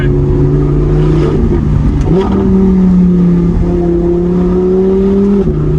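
A 2014 Audi R8 V10 exhaust drones loudly and steadily, high-pitched, the pitch stepping up and shifting as the engine revs through gears, heard from inside the car.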